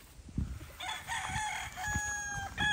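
A pure Golden Boy Sweater gamefowl rooster on a farm crows nearby, one drawn-out, moderately loud call over a steady background hum.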